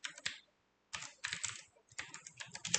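Someone types on a computer keyboard while writing Java code: quick, close bursts of crisp key clicks separated by brief pauses, quiet but distinct.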